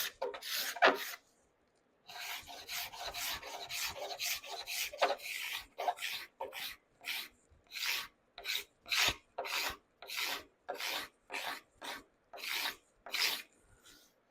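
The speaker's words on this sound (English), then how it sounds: "a scraper is nice because you can scrape and then feel and scrape and feel" A hand scraper works along a wooden guitar neck in steady, rhythmic rasping strokes, each short and crisp, following a longer opening pass and a brief pause, close and alone.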